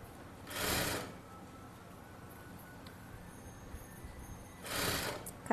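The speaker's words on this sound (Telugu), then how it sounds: "తర్వాత ఈ క్లాత్ అనేది కింద వైపుకు ఉంచేసి ఖర్చు ఎంత కావాలో అంత పెట్టుకుంటూ అలా స్టిచ్ చేసుకుంటూ వెళ్ళిపోవడమే." A sewing machine stitching cloth gives two brief bursts of rapid whirring, one near the start and one near the end, separated by a quiet stretch of faint background hum.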